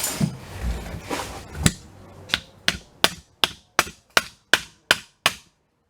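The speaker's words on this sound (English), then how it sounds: "So I'm just going to give it a little tap with a hammer." A series of sharp hammer taps on wood, starting loose and irregular, then settling into a steady rhythm of about ten crisp, evenly spaced strikes, close by.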